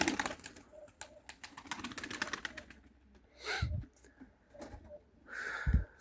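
Soft cooing of Turkish pigeons in two low, muffled bursts, with clicking and rustling in between.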